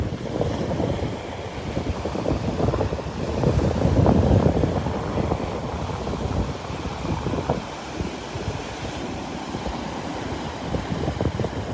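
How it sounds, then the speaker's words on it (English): Ocean waves and surf at a beach in North Naples, Florida, with a jet ski out on the water; a steady broadband wash of surf and wind rumble runs throughout, swelling around the middle, no talk. "Out there braving the waves."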